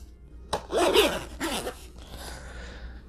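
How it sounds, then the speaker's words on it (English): A zipper on a Kylo Ren costume piece with black boots is pulled in a few quick rasping strokes, close and fairly loud, then tapers off into soft rustling. "the zipper."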